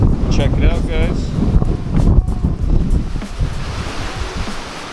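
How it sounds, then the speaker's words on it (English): Strong wind buffets loudly outdoors beside a 2006 drift car, rumbling and roaring without pause, with a voice partly buried underneath. "I'm just gonna say it's windy out here."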